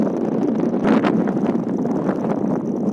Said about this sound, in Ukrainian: Але де сильний вітер.